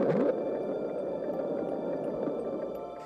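Mysterious underwater noise picked up by NOAA ocean hydrophones: a continuous low, noisy rumble with a sweeping tone early on, steady and moderately loud throughout without any talking.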